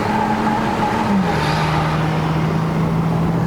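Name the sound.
BMW E90 325i naturally aspirated engine revving while driving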